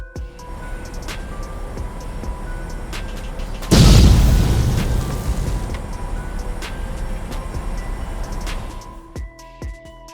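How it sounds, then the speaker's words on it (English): A sudden loud explosion from an airliner's left engine as thrust is increased bursts out of a steady background rumble, followed by a long roaring decay that fades over several seconds. "Suddenly, a loud explosion occurred as the engine thrust was increased."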